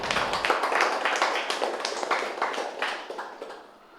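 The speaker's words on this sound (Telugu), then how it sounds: "ఆ మేడంకి ఒకసారి గట్టిగా చప్పట్లు కొడదాం." An audience applauds the translator of a book at a Hyderabad book promotion event, with dense, steady clapping from many hands that fades slightly toward the end.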